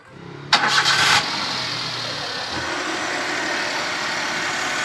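A Suzuki Alto 800 car engine cranks briefly with a sharp rattling burst, catches, and settles straight into a steady, even idle hum.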